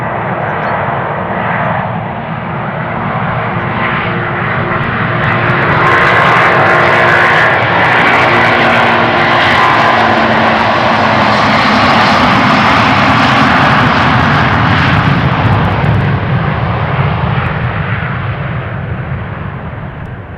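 A departing airliner roars off Schiphol's Polderbaan runway, a loud broadband engine rush that swells to a sustained peak and holds there with no talk over it.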